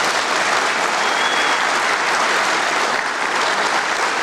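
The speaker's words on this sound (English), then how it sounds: "I'd ask that you give all of them a collective round of applause one last time." A large audience at a sheriff's office awards ceremony claps loudly and continuously, a dense, sustained wash of applause with no pauses.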